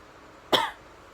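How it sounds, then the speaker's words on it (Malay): A single short cough, close and fairly loud, alone against a quiet background. "Batuk guys"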